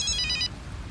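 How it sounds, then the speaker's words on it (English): A mobile phone ringtone chirps in bright repeated electronic tones for about half a second, loud and close, then cuts off, leaving quiet room noise. "Oh, that's my phone."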